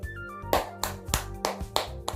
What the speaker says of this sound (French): on peut applaudir ce trophée à merveille